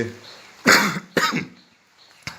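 A person coughs in a few sharp, throaty bursts close to the microphone, with quiet pauses between them.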